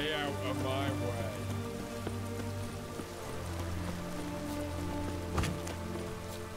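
Steady rain pattering in The Witcher 3: Wild Hunt, a constant wash of drops on surfaces beneath game music and a voice speaking briefly.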